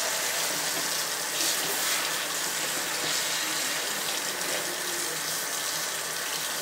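Tap water streams down over a mannequin head while conditioner is rinsed out of colored hair, a steady close hiss of running water splashing continuously without pause.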